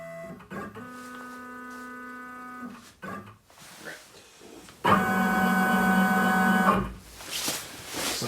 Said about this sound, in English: be silly not to use the dust collector